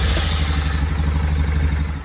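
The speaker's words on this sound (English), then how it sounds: "There's the sound of the stock exhaust." A Honda 350X motorcycle with its stock exhaust idles close by, a steady, fairly quiet low-pitched thrum with a light mechanical clatter and no talking.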